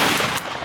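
Shotgun fire at ducks during a waterfowl hunt, with a loud close blast and echoing report filling the brief moment.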